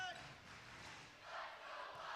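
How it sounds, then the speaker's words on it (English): Loud crowd cheering at a high school volleyball state championship match, a steady roar that swells louder partway through without fading. "That crowd is getting loud."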